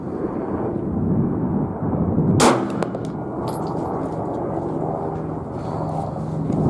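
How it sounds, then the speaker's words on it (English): A Smith & Wesson M&P 9mm pistol fires one unsuppressed subsonic round during suppressor testing, a single sharp crack over loud, constant background rumble. "Smith & Wesson M&P 9mm subsonic unsuppressed."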